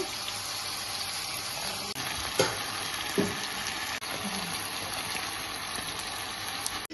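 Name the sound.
chicken frying in oil on high flame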